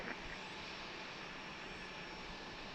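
Allegiant Airbus A320 airliner taking off at Harrisburg International Airport, heard as a steady, broad roar of jet engines held at an even level throughout, somewhat distant, with no voices.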